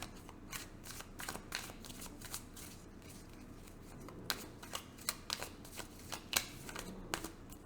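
Riffling and shuffling of a tarot card deck, a run of crisp papery flutters and taps, close and fairly quiet, with no voices.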